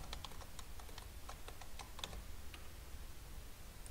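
Keys on a laptop keyboard are tapped in a rapid, uneven series of light clicks, close and fairly quiet, ending with a slightly louder tap.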